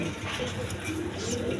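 Pigeons kept for sale at a bird market coo softly and steadily behind a dense background murmur, with no clear voices.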